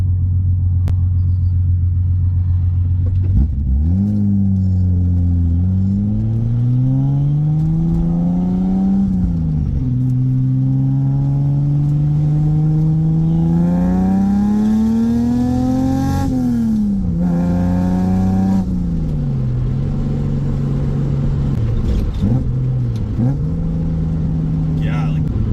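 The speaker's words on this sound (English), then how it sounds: "like quick throttle blips" A 1973 Datsun 240Z engine revs up and down in a series of quick throttle blips, the pitch rising and falling repeatedly, loud and close throughout.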